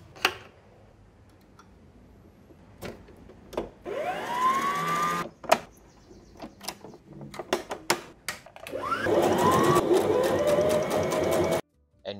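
Sewing machine stitching a double-fold hem on a pair of chinos, with two sustained whirring runs of stitching separated by quieter handling clicks and taps, close and alone.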